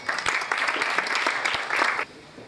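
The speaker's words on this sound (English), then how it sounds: "Please welcome him with a huge round of applause." An audience applauds in a steady, dense clatter of clapping for about two seconds, welcoming a speaker at an evening event, then the clapping drops away abruptly.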